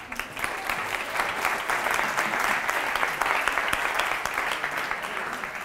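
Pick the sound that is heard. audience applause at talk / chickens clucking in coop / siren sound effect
audience applause at talk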